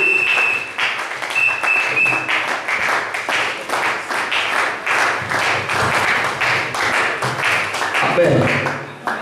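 A church congregation applauds as a preacher approaches. Loud, sustained clapping from many hands forms a rhythmic wash that swells and carries on throughout, with brief tonal accents mixed in.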